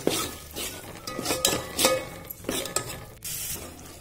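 A spoon keeps stirring red village chutney paste for Kolhapuri tambda rassa in a hot pan, giving repeated scraping strokes and metallic clinks over a low sizzle, close and fairly loud.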